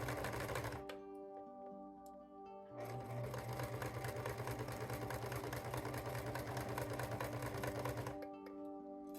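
A sewing machine hemming small doll clothing runs in a steady, fast mechanical chatter, pausing briefly near the start before stitching continuously for several seconds, close and fairly quiet.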